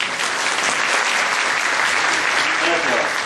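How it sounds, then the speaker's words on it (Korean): Dense, loud audience applause at a Windows 8 Metro-style app design talk, welcoming a design-agency guest onto the stage; continuous clapping from a large crowd with no gaps. "큰 박수로 환영 부탁드리겠습니다."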